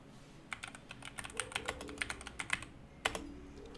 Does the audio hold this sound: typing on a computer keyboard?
yes